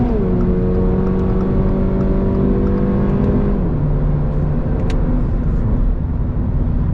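A Toyota GR86 Premium with a six-speed automatic accelerates hard to overtake. The engine drone rises steadily in pitch, then dips at an upshift and climbs again, loud and close under constant road and wind roar.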